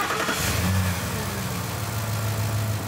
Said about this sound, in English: once it's on there, we can start the truck